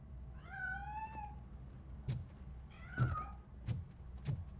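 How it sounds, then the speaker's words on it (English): A cat in the video game RoboCop: Rogue City meows twice, first a drawn-out wavering cry, then a shorter one, with soft thumps and clicks nearby against a low ambient hum. "That cat must be hiding inside."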